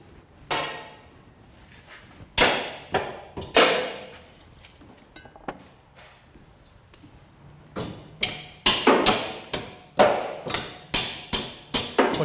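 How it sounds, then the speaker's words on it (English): Loud metal hammer blows on an exhaust pipe of a Subaru Outback H6, scattered at first and then in rapid repeated bursts, each strike ringing out sharply with short pauses between. "chasing a hammer to bash something into position"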